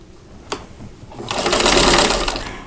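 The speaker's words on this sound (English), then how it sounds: "I'm going to sew from the top center to the bottom right hand corner" A sewing machine stitches diagonally across a quilt block for a wedding bouquet pattern, starting with a single sharp click and then running in a steady, loud, continuous whir for over a second with no talking.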